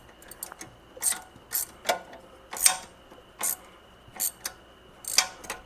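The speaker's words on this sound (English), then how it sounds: "I have an 18 millimeter gear wrench." An 18 mm gear wrench ratchets on a suspension locking nut during a Mercedes SLK350 front suspension job, giving short bursts of bright clicking at irregular intervals, close and fairly quiet, with no talk.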